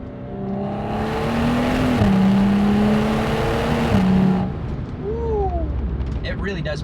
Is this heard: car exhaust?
yes